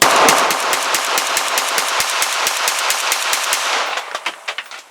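A Polish PM-63 Rak pistol in 9x18 fires a full magazine of Silver Bear ammunition outdoors, a loud, close, evenly spaced string of about twenty cracks that ends with a few slower shots and a trailing echo.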